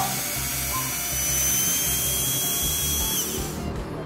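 An IKEA Fixa electric screwdriver drives a Phillips screw with a close, steady high motor whine that holds for a few seconds and cuts off at the end.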